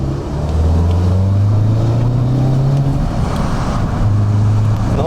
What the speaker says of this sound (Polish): Słychać turbo, jak tam podaje, fajnie.